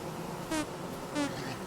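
Bees buzz in the Vintage Story video game, two short faint buzzing passes drifting by over a quiet background.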